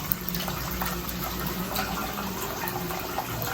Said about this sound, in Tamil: ஸோ 2 டம்ளர் தண்ணி வந்து நம்ம ஆட் பண்ணுறோம்.